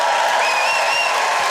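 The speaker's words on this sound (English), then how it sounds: "Applaud if you're a Londoner." A stand-up comedy audience in a theatre claps together in a continuous, even wash of applause with no voices over it.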